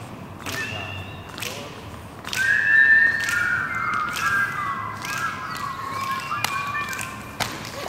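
People whistle during a physical education game, with a bright sustained whistle tone rising over a busy room, punctuated by sharp slaps and thuds from movement.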